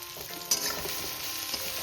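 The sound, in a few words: brinjal frying with onion and spices in a pan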